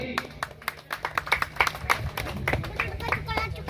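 An audience at a winter blanket distribution event claps in an uneven burst of sharp hand claps that rise and fall, with voices talking underneath.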